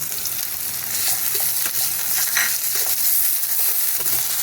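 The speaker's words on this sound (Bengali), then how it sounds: "আদা রসুন গ্রেট করা আছে, আমি এটা এখন দিয়ে দিচ্ছি।" Grated ginger and garlic fry in hot oil with a loud, bright, continuous sizzle, with scraping stirs and light spatula taps over it.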